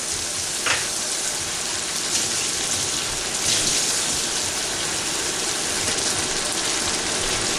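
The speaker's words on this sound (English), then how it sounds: "And I'm going to add in 1/4 cup of water." A quarter cup of water hitting a hot pan of chicken do pyaza sets off a loud, dense, hissing sizzle that holds steady throughout, close up with no talking.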